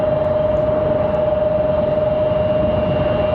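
A United airliner rolling down the runway for takeoff at Raleigh Durham International, a loud steady engine roar with a sustained whine, heard from nearby without talk.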